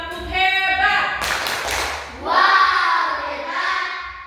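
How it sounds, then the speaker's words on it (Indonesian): A class of fifth-grade pupils performs the rhythmic 'tepuk hebat' clapping cheer together, claps and hand taps rising loud and close, mixed with their chanting voices. "Tepuk hebat"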